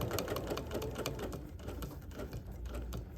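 A sewing machine stitches binding onto fabric, running steadily close by in a continuous rattling hum with a quick repeating needle beat, with no talk over it.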